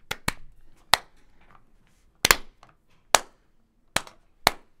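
Sharp hand claps for a clap test in a studio, about seven crisp isolated claps at irregular intervals, close and loud with short room decay between them.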